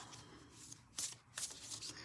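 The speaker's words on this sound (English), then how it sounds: "Let's get shuffling." A deck of Tree of Life oracle cards shuffled by hand, soft riffling and rubbing with two louder flurries of card flicks, close and quiet, no speech.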